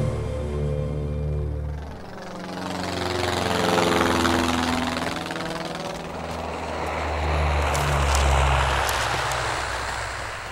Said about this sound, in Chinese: 飞机已经开始轰炸红安城了